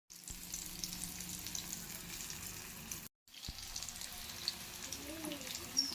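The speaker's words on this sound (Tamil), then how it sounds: "இப்போ கடாயில் எண்ணெய் ஹீட் ஆயிடுச்சு சுழியும் போட்டு எடுக்க போகிறோம்" Suzhiyam dumplings fry in hot oil in a kadai, giving a steady, quiet sizzle that continues after a brief break partway through, with no talking.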